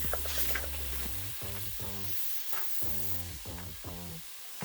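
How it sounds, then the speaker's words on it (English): Minced garlic sizzles steadily in a hot pan while curry masala chicken is being cooked, a bright continuous hiss that runs under louder rhythmic background music throughout. "Oh, that's sizzle."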